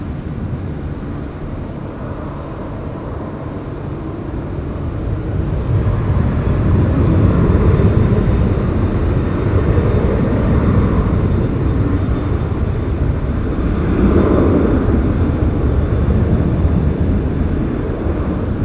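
An airliner taking off from Sydney Airport's runway 16 right, a broad engine roar that swells and then holds steady at a distance, with no talk.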